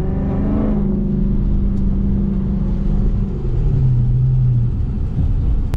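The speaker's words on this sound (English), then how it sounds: "Let's just put her in default, see how she sounds in just regular street mode." Dodge Charger Daytona 392 exhaust in default street mode, a low, fairly subdued rumble that swells briefly at the start and then settles into a steady, muted drone heard from nearby.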